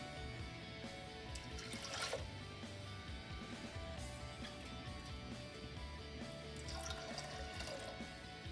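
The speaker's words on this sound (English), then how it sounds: "8 glasses of water" Water runs and trickles into a cooking pot for palak dal with tur dal, a faint continuous splashing pour that stays steady and quiet throughout.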